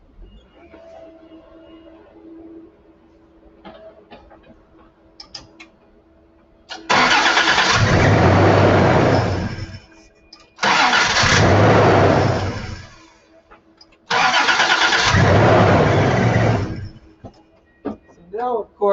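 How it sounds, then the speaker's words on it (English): Three long bursts of a car starter cranking the engine, which turns over but never catches. Each burst is loud and steady, with quiet gaps between them. A voice speaks briefly before the cranking begins. "Let's go ahead and try and crank it."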